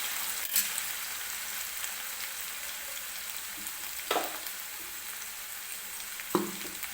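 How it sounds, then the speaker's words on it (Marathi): Potato pieces for sabudana khichdi frying in hot oil, a steady close sizzle with a few sharp clicks and scrapes of stirring scattered through, no voices. "तर व्यवस्थित आपल्याला बटाटा जो आहे तो तेलामध्ये शिजवून घ्यायचा आहे."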